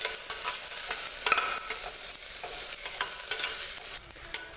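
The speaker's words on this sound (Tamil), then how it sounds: "சேர்த்துட்டு லோ ஃப்ளேம்லேயே வச்சு இதெல்லாம் வதக்கி விட்டுக்கலாம்" Mint and chopped coriander leaves being sautéed in a pan over a low flame for goat leg soup, with a soft, continuous sizzle and repeated scraping stirs, steady and close, and no talking.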